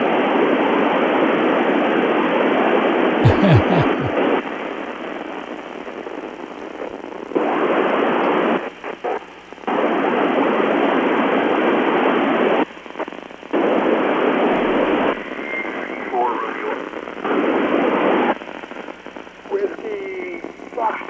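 Voices come through steady radio hiss on an amateur radio satellite pass of RS-44. The static cuts in and out in blocks, with faint, warbling signals underneath.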